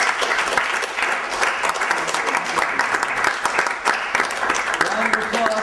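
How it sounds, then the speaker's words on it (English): A crowd applauds three contestants at the end of a day of a dating-coaching event, the clapping dense, steady and loud throughout with a few voices mixed in. "Round of applause for our 3 contestants"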